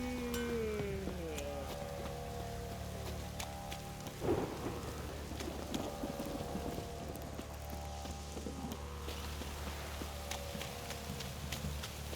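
Steady rain pours with a rumble of thunder in The Witcher 3, a dense wash of drops on surfaces under a low roll, with a sharper crack midway and game music tones faintly threaded through.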